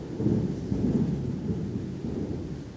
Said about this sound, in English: Sounds like God is calling you with thunder.